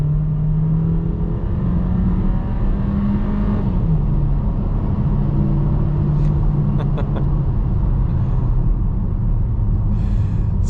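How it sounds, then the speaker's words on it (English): A 2025 VW Taos with a 1.5 liter turbocharged inline engine accelerating at full throttle from about 25 mph, heard from inside as a loud steady drone that climbs in pitch, drops at a gear change, then keeps rising. "What I like to do is get it up to 25 miles an hour and mash the throttle."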